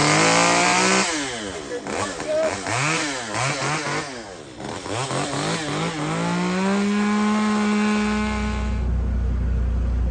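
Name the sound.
chainsaw running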